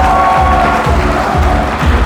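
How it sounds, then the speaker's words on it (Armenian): Wedding guests in Gyumri cheer and clap for the bride and groom, a dense, loud crowd roar with continuous applause that fills the whole moment. "բոլորս միավորվում ենք ու ծափերով օրհնում մեր գեղեցիկ զույգին"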